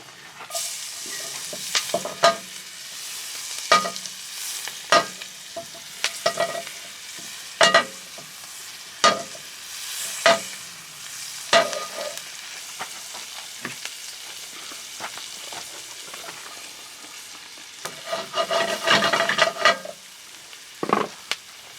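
Onions frying in a camping Dutch oven, with a soft steady sizzle broken by repeated scraping stirs of a utensil against the pot, close and fairly quiet.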